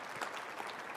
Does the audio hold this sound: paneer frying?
no